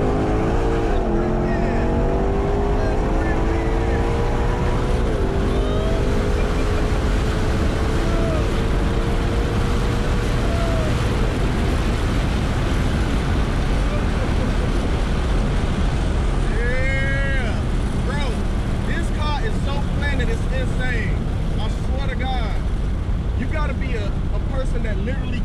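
A 2021 Ford GT500 engine roars loud and close with wind buffeting, its pitch sweeping up and down through repeated hard acceleration bursts as the car is driven aggressively.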